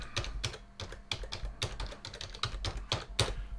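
Fingers typing an email address on a computer keyboard, a quick uneven run of crisp close key clicks in bursts with brief pauses, alone with no talk.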